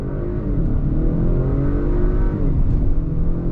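A 2022 Acura RDX A-Spec SUV with all-wheel drive accelerates hard uphill, its engine note rising steadily and loud from inside the cabin with no talking.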